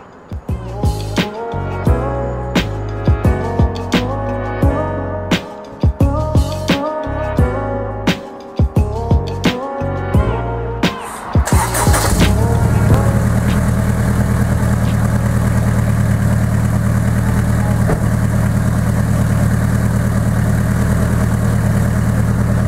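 A turbocharged car engine, freshly fitted with turbo waterlines, is cranked with uneven clattering bursts, then catches and settles into a loud, steady idle close by.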